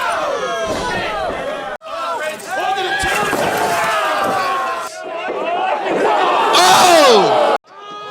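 A wrestling crowd roars and cheers in loud, excited surges during a brutal Mickie Knuckles match, with shouted voices rising and falling over the din and two sharp cut-offs where the noise briefly drops away.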